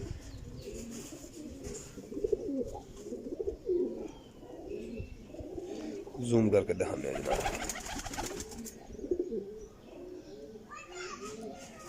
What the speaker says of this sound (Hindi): ये लो जी भाईजान टैडी कबूतर शानदार पल्लियां दे मालक होंगे कबूतर